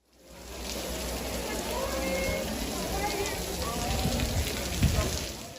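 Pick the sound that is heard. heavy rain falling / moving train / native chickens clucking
heavy rain falling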